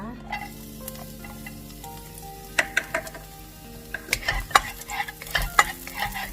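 Garlic stir-frying in a pan for a Hong Kong bok choy and tofu stir-fry, with a steady sizzle under irregular scraping and clinking of a spatula against the pan, growing busier toward the end.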